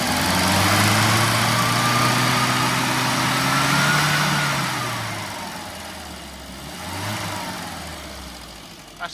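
A classic Mini's small engine runs close by during roadside tuning, its hum loud and steady before the revs sag, then briefly rise and settle again.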